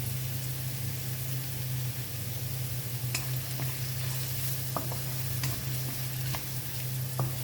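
Ginger fries in a pan for a mung bean dish, giving a steady, close sizzle. Occasional soft scrapes and clicks of stirring come through the hiss.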